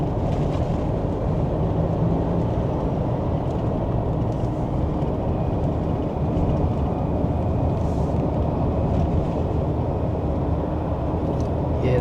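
A JAC T9 ute, 125kW and 410Nm, holds its revs high while descending a hill in gear, a constant loud broadband engine and road drone with no clear rhythm and no talk.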